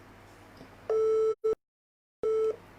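A telephone line gives two long, steady electronic tones with a short blip between them and a silent gap, close and clear, with no voices.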